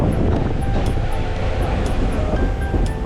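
A train runs along the track as heard from inside the carriage, a loud continuous rumble with rhythmic clicks and rattles throughout.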